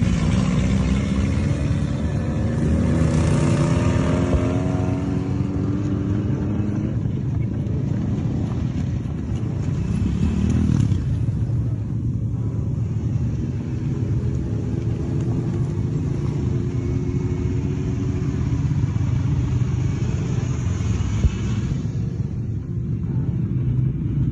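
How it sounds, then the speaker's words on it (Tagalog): Motorcycles and jeeps drive into a city with a continuous loud engine rumble and passing vehicle noise, rising and falling whines as machines go by, with no clear talk. "Nagsimula silang mag-post ng mga TikTok video tungkol sa pagpasok nila sa lungsod gamit ang mga motorsiklo at jeep."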